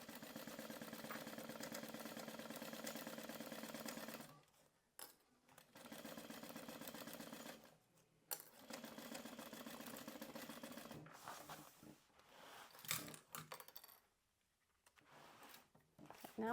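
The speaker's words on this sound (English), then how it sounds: "As I come up to the closure piece, I will backstitch while I'm over that." A sewing machine backstitches over the webbing at a closure piece while assembling a rolltop backpack, running in steady mid-loud bursts of stitching broken by short pauses and a few lighter clicks.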